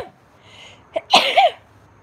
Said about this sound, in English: I'm about to sneeze on you guys